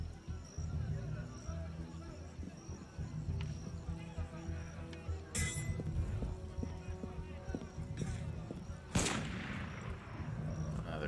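Gunfire crackles in a crowded street battle in Assassin's Creed Unity, with a few sharp shots over constant hoofbeats of horses and a busy game soundscape, while a player talks at times.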